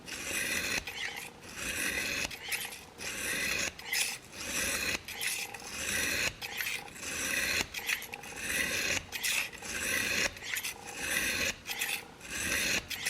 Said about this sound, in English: And I'm going to sharpen this second side until I get a second burr.